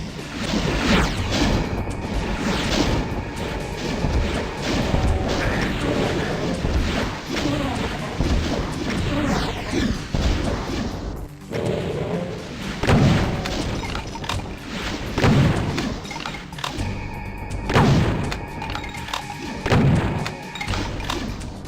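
Rocket explosions boom repeatedly in the shooter Doom, played on the map Torment and Torture: The Opening Abyss, with heavy thuds and blasts every second or two, loud and close.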